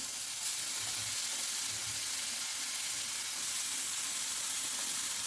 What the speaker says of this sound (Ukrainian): Ось так потихеньку додаю і розмішую венчиком, щоб розбити всі оці от комочки до однорідності.